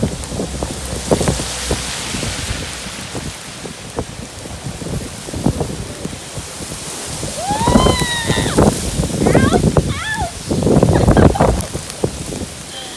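Stormy weather at Gare Loch in Rhu, Scotland, with hail and wind in a steady rushing outdoor roar, broken by scattered pattering impacts, while faint bird calls rise briefly midway.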